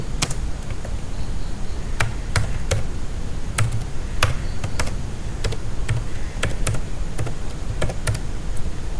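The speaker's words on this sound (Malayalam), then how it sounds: "എൻ്റെ ഇമെയിൽ അഡ്രസ്സ് ഇവിടെ ടൈപ്പ് ചെയ്ത് കൊടുക്കുന്നു" Someone types an email address on a computer keyboard, a run of crisp, irregular key clicks and taps close by over a steady background hiss, with no talking.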